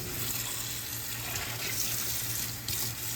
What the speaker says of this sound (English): I just wanna rinse this out.